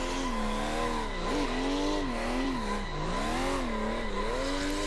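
A car drifts and slides across snow in Assetto Corsa, a steady engine drone with wavering pitch that dips and rises as the tyres scrub and squeal, loud and continuous throughout.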